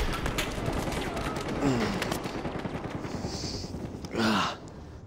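Rapid gunfire in a first-person shooter video game, with dense continuous bursts of shots and a few faint vocal sounds mixed in.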